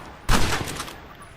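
A burst of rapid rifle shots from a fast-firing rifle in Red Dead Redemption, one sharp loud crack with quick follow-up reports blurring into a decaying echo, alone with no talk.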